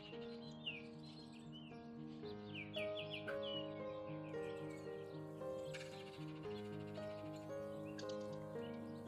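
Excited, chattering oriole calls and chirps come in quick bursts over a steady layered hum of background tones, moderately near, in a backyard.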